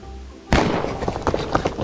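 A single sharp gunshot-like bang from footage played back during a Brazil clip reaction, starting abruptly after quiet and followed by a noisy, crackling tail.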